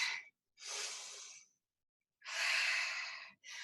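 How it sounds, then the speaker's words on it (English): A slow, deep breath in a guided stretching class with twists and folds, heard as two long airy inhales or exhales separated by silence, close and soft, with no talking over it. "Take a deep breath"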